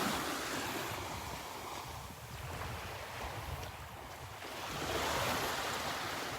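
Ocean waves wash onto the beach at Delnor-Wiggins Pass State Park on a Florida morning, a steady close surf roar swelling and easing with wind buffeting the microphone.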